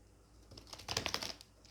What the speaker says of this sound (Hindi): अच्छे से शफल कर लेते हैं गाइस